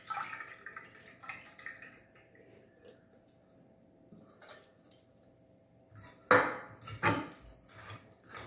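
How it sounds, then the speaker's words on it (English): Soaked tamarind is strained into juice, giving soft wet drips and trickles. Sharper clinks of utensil against a bowl follow later, in a quiet kitchen with no talking. "So I am going to strain this so that I have only the tamarind juice left."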